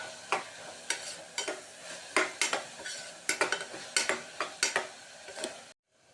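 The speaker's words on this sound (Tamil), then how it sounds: "நல்லா வதங்கிட்டு இருக்கட்டும்." Onion, capsicum and ginger-garlic paste sautéing in a pan for a white kurma: a soft sizzle with repeated scraping spatula strokes in an uneven rhythm, close by, stopping abruptly into silence at the end.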